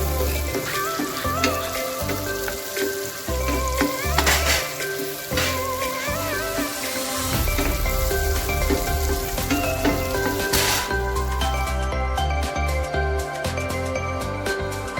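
Onion sizzling in butter with garlic and ginger, a loud continuous frying hiss with stirring scrapes and clatter, while low tonal background sounds run underneath and no one speaks.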